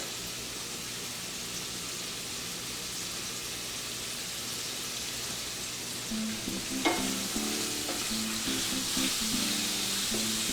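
Minced steak sizzles steadily in a pan, with stirring and scraping clinks and rattles joining in over the last few seconds, close and continuous.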